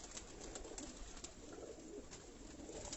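Breeder pigeons kept in coops coo in a continuous soft chorus, with repeated throaty calls overlapping at moderate distance.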